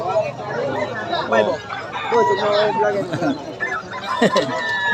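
Roosters crow at a busy chicken market in Bocaue, their calls rising over steady crowd chatter and vendors talking close by throughout.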